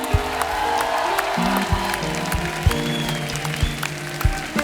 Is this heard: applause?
yes